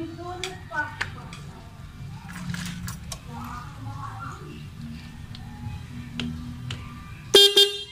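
A car horn newly wired through a relay sounds once near the end, a short, loud, close blast after a stretch of low background rumble and faint handling noises.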